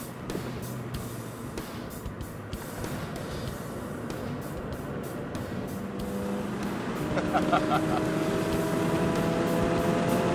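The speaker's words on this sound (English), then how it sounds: "The little Fiesta ST on a track." A Ford Fiesta ST drives hard on the race track at High Plains Raceway in Colorado, its engine droning steadily and rising in pitch near the end, heard from inside the car.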